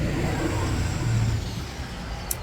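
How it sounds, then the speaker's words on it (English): A loud truck engine rumbles past close by on a hot afternoon, a steady heavy low drone that swells slightly midway and then eases off. "it was a loud truck"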